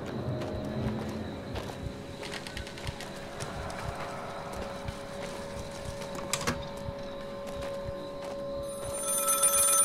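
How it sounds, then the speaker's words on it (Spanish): A telephone rings in the horror game Maid of Sker, a faint, repeated bell tone over soft footsteps and clattering ambience. "Teléfono, mira."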